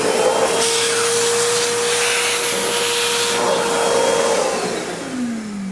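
A small DeWalt 6-gallon wet/dry shop vacuum runs steadily, giving a loud, close, breathy roar with a whining motor tone. Near the end the pitch drops as the motor begins spinning down.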